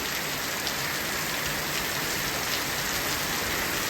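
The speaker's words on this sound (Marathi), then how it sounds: "आवाज ऐकू येत नाही एवढा जोरात पाऊस पडतो" Heavy rain pours steadily in a dense, unbroken hiss, loud and close, with no voices.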